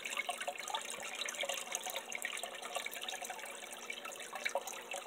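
Water from a crawfish catch drains away in a steady, trickling, bubbling stream, close and constant for about five seconds with no voices.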